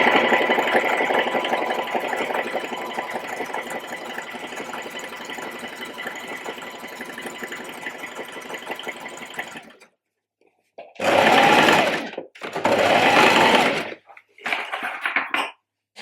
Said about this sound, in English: I'm just going to continue sewing down each of those lines that I've drawn.